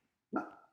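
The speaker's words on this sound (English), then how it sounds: "Sorry for the dogs." A dog gives one short, sharp bark out of near silence, fairly faint and heard alone with no talking around it.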